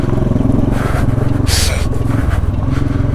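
Motorcycle engine running low on fuel, with a steady low throbbing drone and rough uneven revving that holds loud and close throughout, ending in a brief hissing burst midway.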